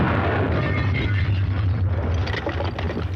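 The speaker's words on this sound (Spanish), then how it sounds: "De pronto se produjo una tremenda explosión" A loud bomb explosion with a deep, sustained rumble that fills the whole clip, a heavy low boom rolling on without any voices over it.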